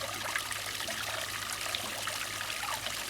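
A small waterfall in a garden pond lined with black pebbles trickles and splashes steadily, a continuous, close, fairly faint flow with no talk.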